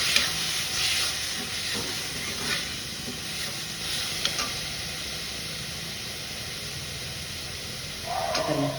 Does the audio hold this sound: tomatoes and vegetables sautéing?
yes